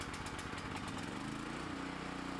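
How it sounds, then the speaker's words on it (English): A Briggs and Stratton generator engine runs at a steady idle, a constant low mechanical drone with rapid firing pulses, faint and even throughout. "You can then start the generator as needed."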